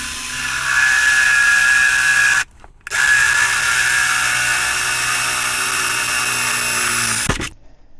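A power drill runs loud and steady up close while boring through the front fender of a Honda Shadow 750 motorcycle clamped to a makeshift bench, with a short pause in the middle before it whines on again and stops.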